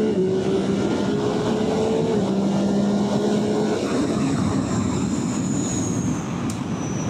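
A Yamaha R9 sport motorcycle engine runs steadily with a raspy, harsh tone, a continuous loud drone with shifting low pitch, heard alone without talk.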